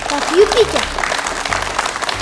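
An audience applauds at a children's quiz show, with a burst of clapping rising under an announcer's voice and a brief spoken name, the applause continuing steadily behind the talk.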